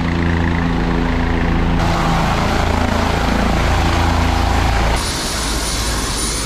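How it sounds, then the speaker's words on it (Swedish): A helicopter close by, its engine and rotors giving a loud, constant roar throughout, with a shift in tone partway through and no talking. "Jag tror det är Spindelmannen och prinsessan här som ska utåka helikopter kanske"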